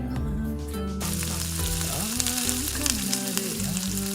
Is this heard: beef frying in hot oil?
yes